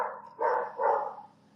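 A dog gives two short barks in quick succession, fairly close and clear against a quiet background.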